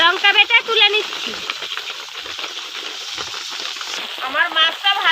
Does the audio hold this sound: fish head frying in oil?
yes